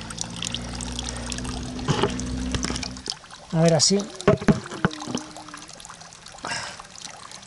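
Spring water from a fountain filling a bottle, an uneven gurgling pour in short bursts with a brief splash, while someone talks nearby and outdoor background noise runs throughout.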